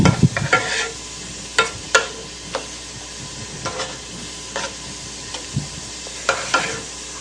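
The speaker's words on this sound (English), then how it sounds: "I'm going to give it a good stir." Beef stroganoff stirred in a skillet: a soft background sizzle broken by sharp, irregular scrapes and clinks of the utensil against the pan, close and alone without talking.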